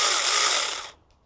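A pole saw chain spins up with a dense, bright mechanical whir for nearly a second, then cuts off abruptly, leaving near silence with a faint brief tick afterward.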